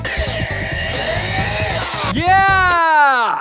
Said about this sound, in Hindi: अब ड्रिल करते हैं इससे।